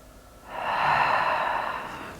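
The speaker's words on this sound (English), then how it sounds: "and breathe here. Another breath." One slow, deep breath drawn during a yoga stretch, a soft airy rush lasting about a second and a half, close and quiet against a still room.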